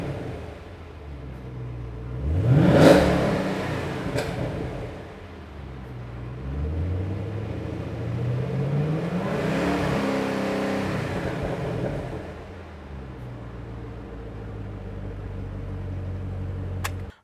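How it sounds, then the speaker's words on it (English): A 2013 Camaro ZL1 V8 blips sharply once, then rises in a long, loud rev that holds and falls back to a rumbling idle, heard close with no talking. "let's take a little listen now"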